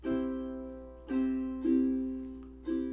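A ukulele is strummed in an uneven rhythmic pattern, four bright chord strokes, each ringing and fading before the next.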